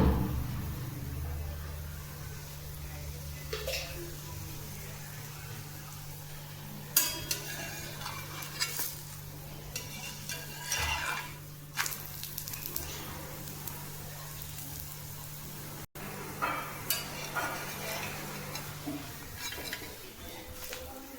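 Besan thalipeeth frying in a little oil in a pan, a steady low sizzle running throughout with scattered clinks and scraping of a utensil against the pan.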